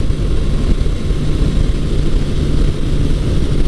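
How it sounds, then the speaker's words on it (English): A 1982 Suzuki GS750E with its stock exhaust idles steadily up close, a continuous low engine drone with an even, unbroken rumble and no voices. "This bike is relatively quiet with the stock exhaust."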